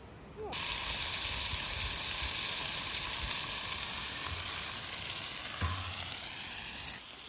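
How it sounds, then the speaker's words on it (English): Sausages, still partly frozen, sizzle on a hot barbecue plate outdoors, a steady loud broadband hiss that starts abruptly after a brief quiet moment and holds unbroken, with a few faint knocks and no talk. "Clean down the barbecue plate. Time to cook some snags."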